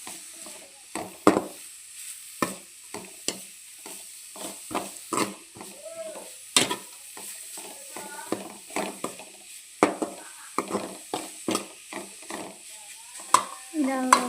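Grated carrot frying in ghee for carrot halwa, stirred with a spoon in a pan, giving repeated scraping stir strokes over a steady soft sizzle, close and fairly loud throughout.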